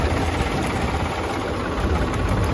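A New Holland tractor engine runs steadily at idle on a farm during wheat crop spraying, a continuous low diesel rumble with broadband hum, no voices over it.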